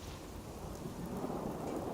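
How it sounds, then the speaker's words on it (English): Steady rain and a low thunderstorm rumble fill the air in the video game Fallout 4, a continuous dense wash of falling water with deep rolling thunder underneath and no voices. "Always raining and storming in this game."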